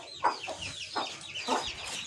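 An English Game fancy hen being set on eggs clucks close by in a series of short, separate clucks spaced about half a second apart, with faint background murmur and no talk.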